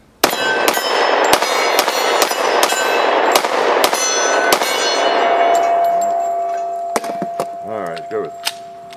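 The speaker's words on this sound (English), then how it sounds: "these are 200 grainers I'm shooting right now" Rapid shots from a Glock 30S pistol firing 200-grain rounds crack outdoors, a dense string of loud reports in the first half and then scattered fainter impacts and echoes.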